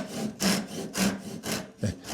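Hand saw cutting a wedge kerf in wood for traditional Korean tortoise-shell lattice window joinery, four rhythmic rasping push strokes spaced about half a second apart, close and clear with no talking.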